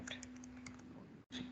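Faint typing on a computer keyboard during a web server login, a few soft key clicks over a steady low hum, then a brief dropout before the hum returns.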